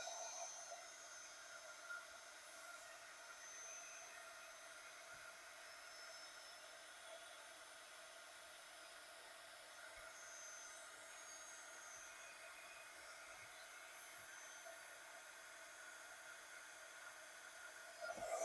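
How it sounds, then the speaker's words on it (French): A heat gun warming up for embossing runs as a steady, faint blowing whir, unbroken for the whole stretch with no talking. "Vous avez votre pistolet chauffant, vous le faites chauffer."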